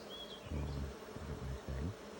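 Honey bees buzz busily around a beehive in a bee yard during a normal nectar flow, forming a soft continuous hum with louder low swells as bees pass close, and no voices.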